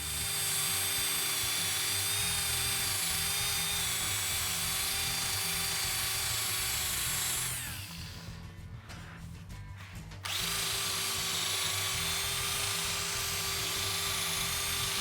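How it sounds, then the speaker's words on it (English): Power tool spinning a wire brush against powder coating inside a rear bumper part, a loud, steady high-pitched whine that drops out for a couple of seconds and then resumes. "I just use a wire brush. You can really just scrape it out"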